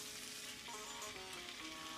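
Black-eyed peas with cilantro sizzling steadily in a pan, a soft continuous frying hiss with faint crackles and no talking.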